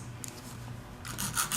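Rasping file strokes shaping an artificial nail tip during a manicure, a soft rubbing scrape that grows louder and brighter in the final half second, heard alone without talk.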